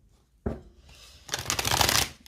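Tarot cards being shuffled, a short riffle near 0.5 seconds followed by a louder, dense burst of shuffling from about 1.3 seconds to the end, close and clear with no talking.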